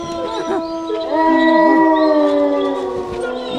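A dog howls in long, wavering, drawn-out tones that rise and fall, loud and close, with a faint voice in the background.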